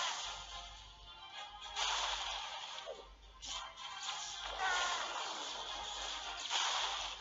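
Clash of Clans hero in a summer costume yelling through a megaphone while firing a pinkish beam, repeated swishing whooshes and bursts of game sound effects at moderate level, with no talk.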